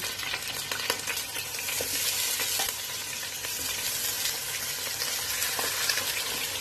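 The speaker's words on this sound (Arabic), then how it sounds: "زيت صغيرين عشان بس احمر فيهم الفراخ" Chicken pieces frying skin-side up in a small amount of oil in a pot, a loud dense sizzle and crackle that holds steady and close throughout, with no talking.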